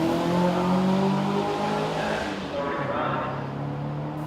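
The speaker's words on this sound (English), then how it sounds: "This is the 44, the Saab 96 V4." A 1500cc Saab 96 V4 classic car on a racing circuit at a historic motorsport event, its engine droning steadily as it drives past, loud and then easing off slightly.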